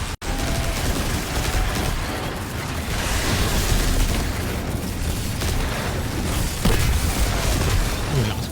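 Loud, dense battle din from the video game Destiny 2 on a master-difficulty Grasp of Avarice run: heavy booming explosions layered with rapid gunfire-like bursts, continuous and close throughout.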